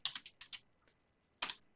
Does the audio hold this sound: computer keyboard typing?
yes